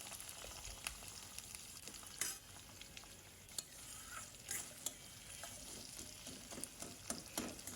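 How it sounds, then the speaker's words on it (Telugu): Onions frying over a medium flame after a tempering of curry leaves and seeds, for aloo methi curry: a steady sizzle with repeated scraping stir strokes, close and fairly quiet, with no talking. "అందులో ఆనియన్స్ వేసి మీడియం ఫ్లేమ్లో పెట్టుకొని"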